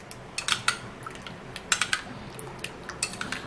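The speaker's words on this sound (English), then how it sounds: "I'm actually gonna be stirring this all up" A spoon stirs a homemade skin remedy mixture in a bowl, giving light, irregular clinks and scrapes against the bowl in short bursts, close by and fairly quiet.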